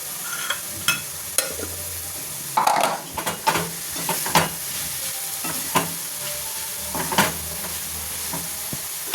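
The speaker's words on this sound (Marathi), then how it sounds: "गाजर हलवता हलवता इथे मी तुपाचा वापर करणार आहे" Grated carrots cooking in ghee are stirred in a pan over low heat, with steady close sizzling and scraping spoon strokes that come in irregular bursts.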